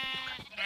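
Sheep bleating in the Minecraft video game, a short wavering, nasal bleat held for under a second, close and clear with no talk over it.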